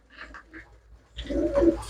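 Pigeons kept for sale coo nearby, a couple of soft rolling coos at first, then a louder, busier burst of cooing and rustling toward the end.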